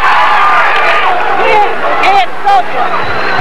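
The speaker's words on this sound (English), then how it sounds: "As you can hear, a very highly partisan Hobart crowd here cheering on their team." A partisan Hobart crowd cheers and shouts at a college lacrosse game against Cortland, a busy roar of voices with sharp yells rising above it, a commentator talking over the noise.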